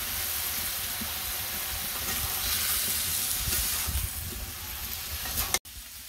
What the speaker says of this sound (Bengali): তরকারি কষানো হয়ে গেছে,